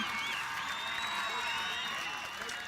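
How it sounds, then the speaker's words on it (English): Spectators clap and cheer in a steady, dense wave of applause after Ireland's polocrosse World Cup semi-final win over Zimbabwe, loud and continuous, with some voices mixed into the crowd noise. "Put your hands together for them, please."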